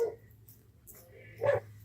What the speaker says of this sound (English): My dog's outside barking.